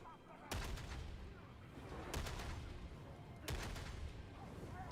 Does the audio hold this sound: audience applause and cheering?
no